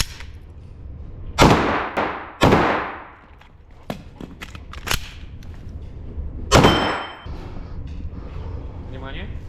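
Gunshots at a shooting practice session, about 15 metres from the target: three loud, sharp cracks with echoing decays, spaced a few seconds apart, mixed with fainter clicks and handling noises.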